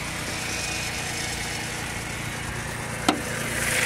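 A 3.5-liter V6 in a 2009 Dodge Charger at a junkyard runs at a steady, slightly rough idle, close and continuous, with one brief sharp click or knock near the end.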